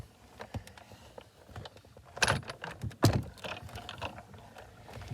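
A Big Shot embossing machine cranks a 3D embossing folder through on a blue plate, giving soft mechanical rattles and clicks with two louder thumps partway through, close and fairly quiet.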